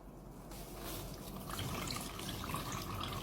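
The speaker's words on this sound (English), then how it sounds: "water flows out" Water streams out of holes poked in a plastic bag, a soft, continuous trickling and splashing that grows slightly stronger partway through, faint and without talk.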